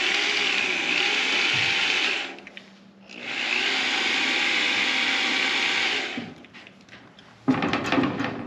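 A power drill boring bolt holes for a wood-burning stove install in a metal-roof home, two sustained loud drilling runs with a brief pause between, then a clattering burst at the end.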